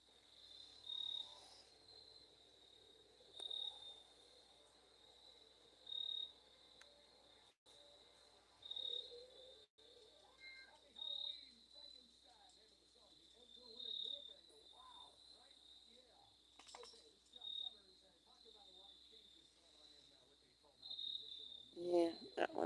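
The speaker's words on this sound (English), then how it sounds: "well, I really hear the crickets now." Crickets at night give a thin, high, steady chirping that pulses evenly through the whole stretch, fairly faint, while people talk quietly over it at intervals.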